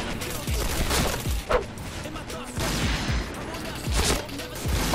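HK-416 rifle fire in the video game Point Blank, repeated bursts of sharp shots with loud sustained stretches and brief gaps, under occasional chatter.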